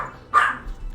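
A single short dog bark sounds once, fairly close, against a low background hum.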